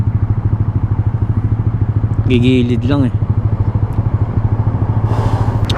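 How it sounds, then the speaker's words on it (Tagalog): A motorcycle on a city street, its engine putting out a loud, close, steady pulsing chug like idling, with someone talking briefly over it midway. "Ayaw padaanin yung motor."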